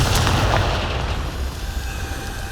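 Confringo blasting spell in Hogwarts Legacy, a heavy deep boom at the start that rolls into a long rumbling decay with debris-like crackle, loud and close.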